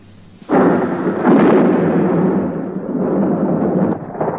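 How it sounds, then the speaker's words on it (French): Thunder crashes in during a storm, an abrupt loud burst that swells into a long, heavy, rumbling roar which rolls on without fading and carries a sharp crackle near the end. "Madame de Bonnefamille, réveillée par le fracas de l'orage"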